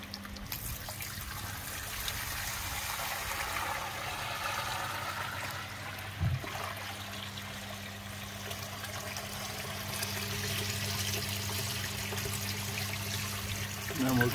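Water flows steadily through a koi pond skimmer and filter, a low, continuous trickling and gurgling heard quietly at close range with a faint hum underneath.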